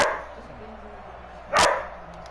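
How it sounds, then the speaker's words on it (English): A dog in a Madden football video game gives a single short, sharp bark, loud and close, over a low background murmur of game commentary. "Over here, the dog."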